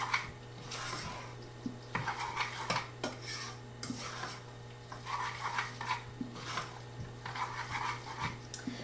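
A utensil stirs melted cheese and butter in a pot, close repeated scraping and clinking of metal against the pan in an uneven rhythm, with a soft steady hum underneath and no talk.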